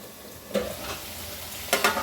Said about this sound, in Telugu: ఇప్పుడు వీటిలో మూత పెట్టి వేయించేసుకుందాము